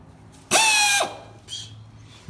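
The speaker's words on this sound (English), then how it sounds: "So the air tool didn't have enough torque to get the last bolt off." A pneumatic air tool bursts into a loud, high-pitched whine for about half a second while working on a bolt of a 1993 Toyota pickup with a 3.0 V6, then a shorter, fainter second burst follows.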